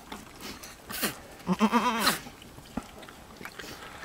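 Goats bleating in a few wavering, nasal cries close by during a goat birth, separated by short quiet gaps with faint rustling.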